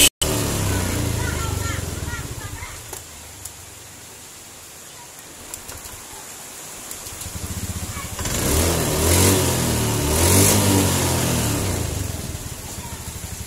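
A Honda Beat ESP scooter engine starts quietly via its ACG starter without a starter-motor whine, idles softly, then revs up twice in rising bursts around the latter half.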